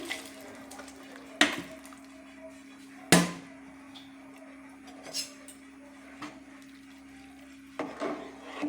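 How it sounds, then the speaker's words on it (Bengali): A spoon clinks and knocks against a pot while rice, lentils, fried vegetables, peas and green chilies are stirred together for vegetarian khichuri, with sparse sharp taps over a low steady hum. "সব কিছু ভালো করে একসাথে একটু নেড়ে দিয়ে এবার আমি খিচুড়িটাকে হতে দেবো।"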